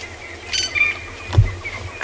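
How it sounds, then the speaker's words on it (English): Brief bird calls ring out at sunrise on an African safari, a couple of short chirps followed by a sharper call against quiet open bush. "Beautiful birds you can hear calling."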